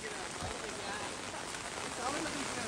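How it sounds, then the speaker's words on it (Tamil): Floodwater rushes during heavy overnight rain in Sathankulam, where rivers and ponds have overflowed; a dense, unbroken roar of water and rain holds steady and loud from start to finish. "புயல் வேகத்தில் தண்ணி சென்று கொண்டிருக்கிறது."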